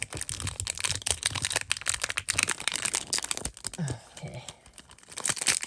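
A Rubik's cube box is opened, its packaging torn and crinkled in quick, close, uneven bursts of ripping and rustling, with a brief spoken word partway through.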